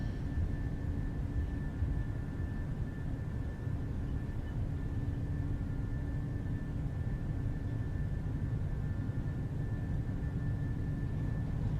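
A Boeing 737-800 on its takeoff roll in a flight simulator, a steady roaring engine drone with a constant whine held at even loudness from start to finish, no voices.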